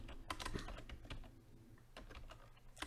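Typing on a computer keyboard while working in a web form builder: quiet, close clicks in short irregular bursts over a low background hum.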